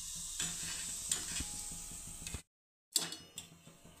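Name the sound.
wheat kurdai crisps frying in oil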